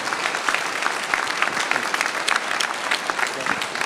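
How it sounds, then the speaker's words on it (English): A town hall audience at a clubhouse applauds police officers, a steady, even wash of clapping from a sizable crowd in an indoor room that holds at a constant level throughout. "Let's have a round of applause for our police."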